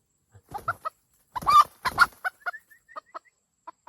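A wild junglefowl rooster crows in the open, a short broken series of bright calls followed by a few faint, spaced clucks, clear and fairly close against a quiet background.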